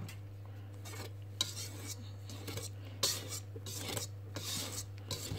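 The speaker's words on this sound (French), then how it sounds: "Voilà, je mélange délicatement." Sifted flour being gently folded into whipped egg batter in a bowl, soft rhythmic scraping and swishing strokes of a spatula, close and quiet over a low steady hum.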